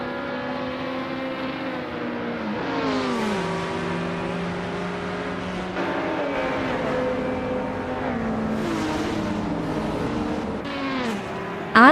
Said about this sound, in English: Bot Tryhard Triad is starting on pole with a 2017 Porsche 911 RSR